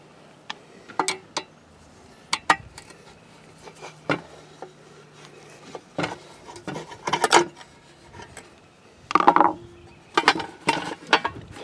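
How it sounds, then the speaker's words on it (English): Screws are backed out of a Bouge RV 30 or 50 amp power outlet box on a camper travel trailer. Close, uneven metallic clicks and ratcheting taps come in short bursts with pauses between them, and no one speaks. "I'm going to take these screws out here so I can see inside here."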